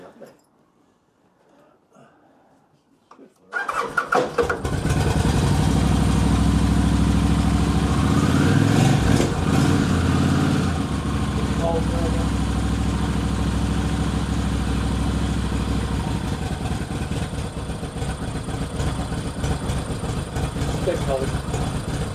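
A motorcycle with a debuffed exhaust fires up after a few quiet seconds in a workshop, then settles into a loud, steady, throaty idle with slight rhythmic pulsing, with people talking nearby.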